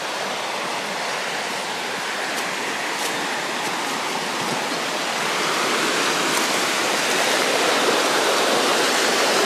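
Water flows steadily in a stream during a hike in the Cure valley, a continuous broadband rush that is loud and close, swelling slightly louder toward the end with no talking.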